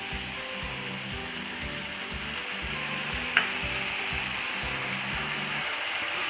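Pizza filling frying in a pan after a spoonful of vinegar goes in, a loud, steady sizzle close by that never lets up, with a low rhythmic churn underneath and one sharp click partway through.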